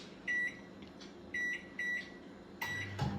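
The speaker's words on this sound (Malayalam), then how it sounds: "സ്വിച്ച് ഇടുക മൈക്രോവേവ് കൊടുക്കുക വൺ മിനിറ്റ്" Short electronic beeps from a microwave oven, a few separate tones in a quiet room, followed by a soft click and hum.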